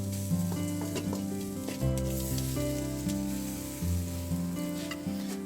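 Chopped onions cooking in about a quarter stick of butter in a pan over low heat, a continuous gentle sizzle heard under a sustained musical backing, with no speech.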